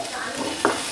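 Prawns frying in masala in a pan make a steady close sizzle, with a short clink of a utensil against the pan partway through.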